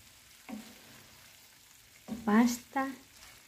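Pasta dropped into a hot pan with tuna and green beans, giving two short bursts of sizzling frying close by, the second shorter, after a faint earlier crackle and quiet stretches between.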